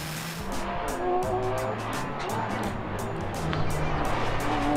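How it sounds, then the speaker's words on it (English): Porsche 911 GT3 Cup race car accelerating out of a hairpin at Croft circuit during a Porsche GT3 Cup Challenge GB race, engine note climbing and stepping through several quick upshifts, loud and continuous. "On board with Sherwood, out of the hairpin, up through the gears, heading for the line"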